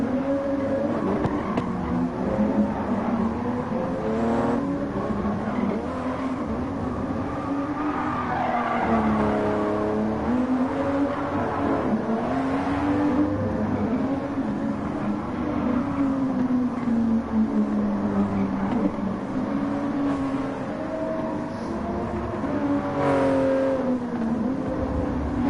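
Toyota GR Supra GT Cup race car in a video game, its engine droning and rising and falling through gear changes while tires squeal continuously through corners, loud and steady throughout with no talk.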